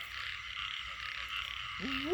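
A frog croaks at night in the rain, a short, rising, warbling call near the end, heard over a steady hiss of rainfall and faint insect-like buzzing.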